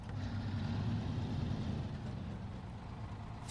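Engine of a truck in the video game SnowRunner, a worn-out rig with air brakes, rumbling loud and steady at low pitch throughout on a foggy night drive, with no voices.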